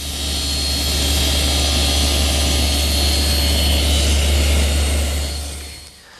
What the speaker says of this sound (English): there's one more milling operation on the tenons, and that's to make the cheek cuts